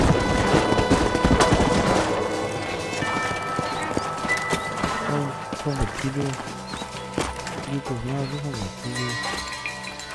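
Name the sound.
horse hooves galloping, from a video game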